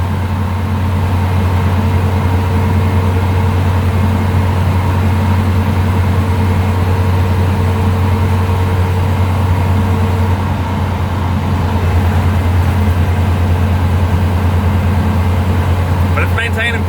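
Suzuki Samurai running a swapped 1.6 Geo Tracker 8-valve engine with a Weber carburetor, a steady loud low drone heard from inside the cabin as it holds speed on flattish ground, unbroken throughout.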